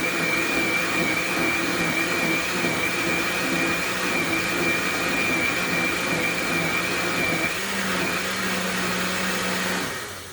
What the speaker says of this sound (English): And I'm just going to blend this until smooth